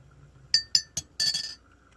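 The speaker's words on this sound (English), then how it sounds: "You need to have a metal spoon so you can mix it in a ceramic." A metal spoon clinks against a ceramic cup while stirring, with three sharp separate taps and then a quick rattling flurry, close and alone.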